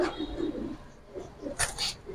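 Pigeons cooing, a few soft low coos in short bursts close by, with small rustles between them and no speech.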